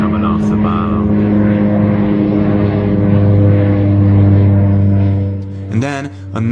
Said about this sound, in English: This plane flew over me this evening and was spraying something.